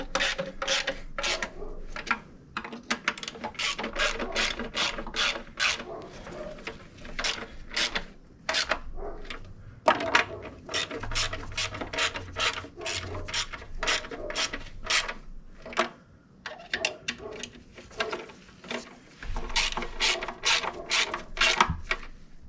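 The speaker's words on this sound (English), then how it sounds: "I like the plastic ratchet for quarter drive" A quarter-inch drive ratchet works the oil cooler bolts on a 2014-or-later Jeep Cherokee, producing long runs of rapid, close clicking that pause and resume, with no speech.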